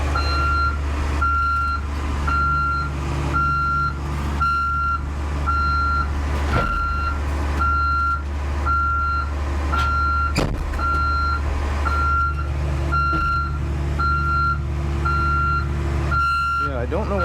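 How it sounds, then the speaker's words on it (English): A loud reversing beeper on a truck hauling a 2000 Cat 322B excavator, sounding in a steady evenly spaced series of sharp beeps over a rumbling diesel engine idle, with brief talk and a couple of louder knocks. "Boy, that beeper is loud."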